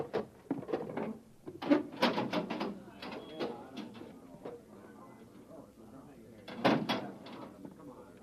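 A manhole access door opens in a radio drama set beside a rolling road, a run of close metallic clanks and scrapes with a second burst of clatter later, as a voice briefly speaks over it.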